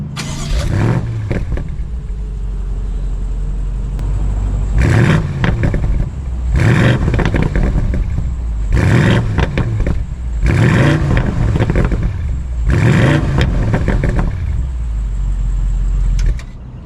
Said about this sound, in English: here is an exhaust clip for you.